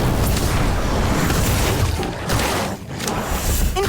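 A fire spell, Incendio, cast in the video game Harry Potter: Magic Awakened, producing a loud, sustained whooshing burst of flame and effects that fills the whole span, dipping briefly near the end.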